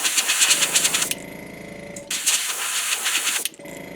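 Paint spray gun hissing in bursts as it coats a copper lime, loud and close, with short pauses between passes.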